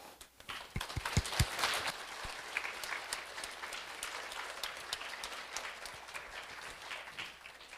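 Applause from a church congregation, a burst of loud claps at first settling into steady clapping that continues throughout.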